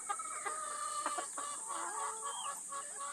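Chickens cluck and squawk in a busy overlapping chorus at feeding time, with rice scattered to them and pigeons joining the flock, the calls fairly close and continuous with no talk.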